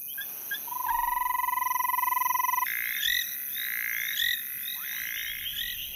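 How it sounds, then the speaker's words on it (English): An African frog calls near and clear, a sustained trilling note followed by rapid chirping, rattling calls. "When it calls, a frog fills its lungs with air, closes mouth and nostrils, and shunts the air back and forth over the vocal cords like a bellows."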